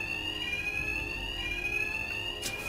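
An in-game alarm in Batman: Arkham Knight rings continuously as a steady, piercing electronic tone over a low background rumble, with a brief burst near the end.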